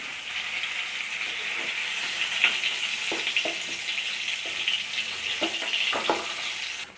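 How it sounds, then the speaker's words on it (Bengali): Cauliflower florets frying in hot oil for a rohu fish curry, a constant loud sizzle with occasional sharper crackles and pops, no talking. "দেখুন ফুলকপিগুলো ভালো করে ভেজে নিয়েছি"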